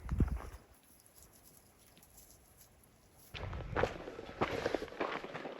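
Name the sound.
horse hooves clip-clop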